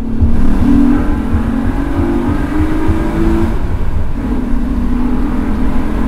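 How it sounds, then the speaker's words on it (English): A 2006 Honda Accord Coupe V6 revving hard in second gear into VTEC from 4,000 rpm in a tunnel, the rising drone echoing, loud and continuous, with a brief shift midway. "Let's see how VTEC sounds in the tunnel."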